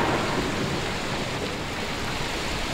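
Heavy rain pours in a dense, continuous hiss under a low rolling rumble of thunder, steady and loud throughout, with no voices.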